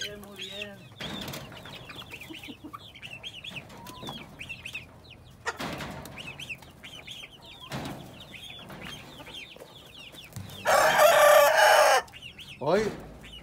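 A rooster crows loudly and close by in a yard of clucking chickens, with wing flaps and quiet talk between calls.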